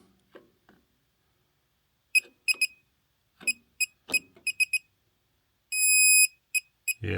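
A circuit breaker finder gives repeated short electronic beeps, irregular at first, then one long tone and more quick beeps, close and clear with faint handling noise between.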